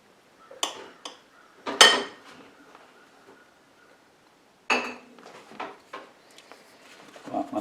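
A knife slicing through beet-pickled eggs on a plate, with a few sharp clinks and cutting taps in short bursts, close and moderately loud, separated by quiet pauses.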